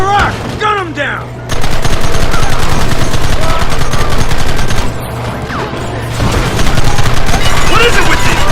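Dense, loud gunfire in the Xbox 360 video game Red Dead Redemption: rapid, continuous volleys of overlapping shots with a brief lull partway through, then heavy firing again, with shouting voices mixed in.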